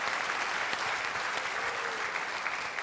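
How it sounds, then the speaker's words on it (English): A seminar audience gives a steady round of applause for Christina, dense and sustained clapping filling the room with no voices on top. "let's just give Christina a round of applause for the great job she's doing"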